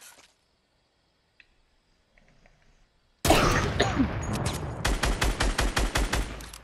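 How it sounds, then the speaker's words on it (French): First-person shooter game gunfire: after a near-silent stretch with faint clicks, a loud burst of automatic fire erupts and continues as a rapid, evenly spaced string of sharp shots. "Ça tire, mais je sais pas où."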